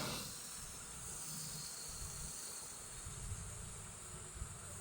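A continuous sizzling hiss of baby shrimp frying in a hot pan, steady and close, with no talk.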